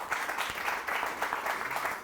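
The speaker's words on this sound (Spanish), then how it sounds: "Regálele un aplauso al Señor." A church congregation claps during a Wednesday Bible study service, a brief, moderate burst of clapping with a loose rhythm lasting about two seconds.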